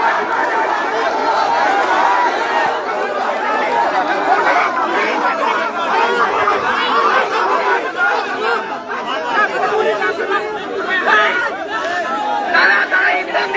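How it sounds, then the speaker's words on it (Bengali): Crowd of students massed at a police barricade in Kurigram, shouting slogans together in a dense, continuous, loud roar of overlapping voices with no single voice standing out. "আপনারা দেখছেন ছাত্ররা ভুয়া ভুয়া স্লোগান তুলছে।"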